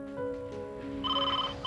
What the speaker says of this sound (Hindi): ओफो, ये फोन।